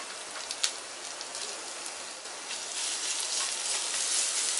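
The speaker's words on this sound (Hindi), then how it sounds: "लहसुन को तेज आंच पे लाइट ब्राउन भून लिया है" Finely chopped garlic and curry leaves sizzle in hot oil over high heat, a steady broadband crackle with a few sharp pops, growing slightly louder toward the end with no talking.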